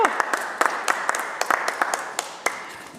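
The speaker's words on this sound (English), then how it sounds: "Look at that applause before I even say anything." Scattered, irregular applause from members in the British Columbia provincial legislature chamber, a thin patter of individual claps with sharp accents, fading gradually over a few seconds.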